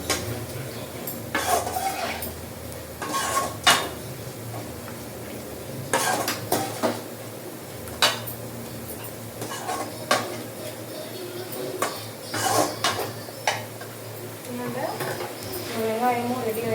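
Chicken being mixed in a cooking pot, with a run of irregular scraping, clinking utensil strokes against the metal, near and fairly loud, alongside a faint sizzle and some talking.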